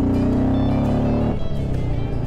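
Royal Enfield Bullet 350 motorcycle engine running close by, a steady low thumping idle with dense rhythmic firing pulses that loosen slightly partway through, heard alone without talk.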